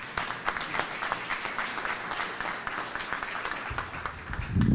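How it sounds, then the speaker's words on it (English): An elementary school audience at a red carpet celebration gives a round of applause, moderate steady clapping that continues for several seconds and swells near the end. "Give Tony a round of applause"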